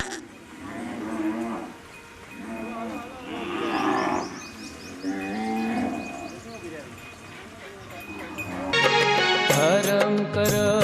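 Cattle at a panjrapol animal shelter in Adhoi moo repeatedly while being given fodder. Several long, loud lowing calls overlap, and music with singing comes in near the end.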